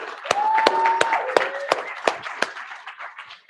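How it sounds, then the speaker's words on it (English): An audience at a science talk competition final applauds as a guest is called up, with a few sharp claps over a murmur and a sustained tone in the background, thinning out by the end. "Let's give him a round of applause"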